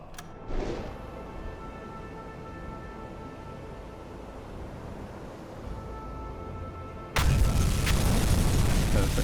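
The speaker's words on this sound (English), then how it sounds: "And a secondary explosion on the deck." Torpedo strikes and a secondary deck explosion on a ship in a U-boat submarine video game: a deep boom early on, a long low rumbling aftermath, then a second loud, heavy blast near the end.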